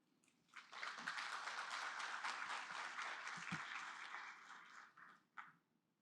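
A conference audience applauds its speakers after a panel presentation. The applause is a dense, sustained burst lasting several seconds, then thins out and fades near the end, with no voices over it.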